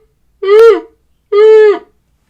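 A human voice imitates a shofar shevarim call for Rosh Hashanah, producing two separate short horn-like blasts with a brief gap between them, close and clear.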